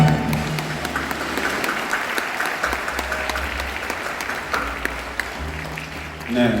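Dense, sustained audience applause fills the hall at the opening of the 29th Bucheon International Fantastic Film Festival, loud and steady throughout with a brief swell near the end.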